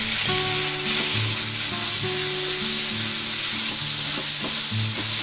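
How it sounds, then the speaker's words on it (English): Tomatoes frying with sautéed onion and garlic for tomato rice, a loud, close, continuous sizzle and hiss broken by repeated stirring scrapes and clacks of a utensil against the pan. "I fried the onion and garlic nicely. Now is the time you put in your tomatoes"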